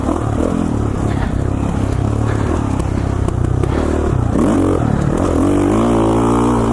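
Off-road motorcycle ridden on a mountain single-track trail in Idaho, its engine droning loud and close throughout with shifting revs, a rising rev near the end, and clattering and scraping from the rough ground.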